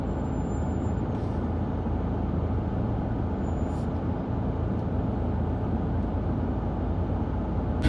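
Steady, dense noise of slow-moving road traffic with trucks, a low engine rumble and a continuous wash of passing traffic, heavy vehicles among it, with no voices.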